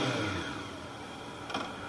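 A Honda Nighthawk 750 motorcycle with its stock exhaust runs at a quiet, smooth idle, a soft steady engine hum with a slight rise near the end, heard alone up close.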